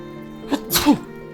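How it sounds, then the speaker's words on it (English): A single sharp human sneeze, a short in-breath followed by a quick explosive burst, close and alone. "I feel like I need to sneeze"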